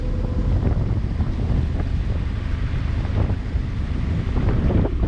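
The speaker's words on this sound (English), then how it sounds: "The wind is swirling around these high buildings" Strong wind buffeting a small boat cruising between tall city buildings, a steady loud roar of gusts across the microphone with faint water wash beneath, no voices.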